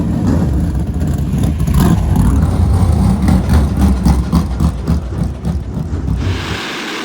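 A tour modified race car, a short-track ground pounder, revs loud and close at a Northeast short track, its deep throbbing engine rising and falling before cutting off near the end.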